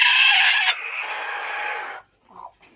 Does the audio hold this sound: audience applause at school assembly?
no